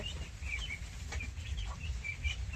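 Domestic desi ducks crowded in their shed on a farm, a steady busy flock chatter of quacks and calls with repeated bursts over a low rumbling background.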